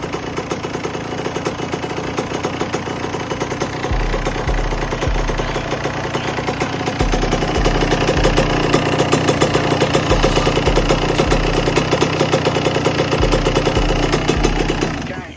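A Yamaha YZ125 two-stroke dirt bike idles steadily after an oil change, a loud, close, continuous buzzing engine with a faint rhythmic low pulse throughout and no speech.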